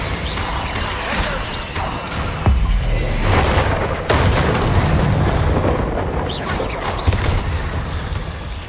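Bombarda spell explosions in the Hogwarts Legacy video game: heavy booming blasts and crashes at close range over a continuous loud roar of combat effects, with several sharp impacts spread through the clip.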